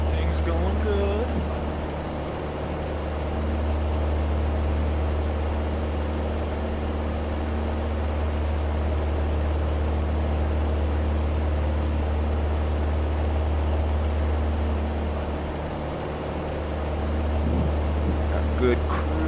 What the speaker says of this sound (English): The engine still sounds healthy